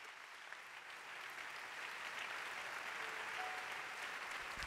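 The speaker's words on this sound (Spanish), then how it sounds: "La asamblea acoge con aplausos el testimonio de Claudio" A large assembly of young people in the Paul VI Audience Hall applauds a personal testimony, a steady, dense wash of clapping that holds evenly from start to finish.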